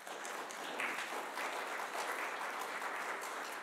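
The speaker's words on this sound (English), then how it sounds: "You may give them a round of applause." Applause from a church congregation during a Sunday service, a steady, even wash of clapping that fills the room from start to finish with no voices over it.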